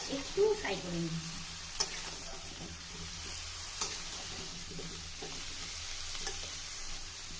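Cauliflower frying in a pan with turmeric and salt, a faint steady sizzle with occasional clicks and scrapes of stirring, quiet and close.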